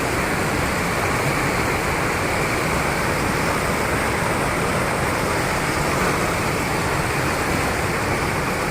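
Ghag waterfall pours steadily in a continuous, loud broadband rush of falling water with no pauses, heard up close and alone with no voices.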